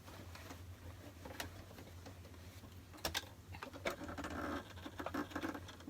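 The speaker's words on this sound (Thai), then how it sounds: "นี้เราก็จะเย็บล็อกไม่ให้มัน ไม่ยางมันม้วนไปม้วนมานะคะ" A sewing machine stitches elastic in place, with soft rapid needle patter and a low motor hum running throughout, plus a few sharper clicks, quiet and close.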